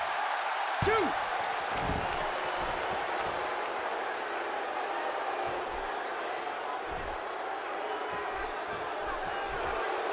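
Arena crowd noise from the wrestling video game WWE 2K16 during a Sheamus versus Zack Ryder match, a steady roaring wash of cheering spectators with a few heavy thuds and slams breaking through.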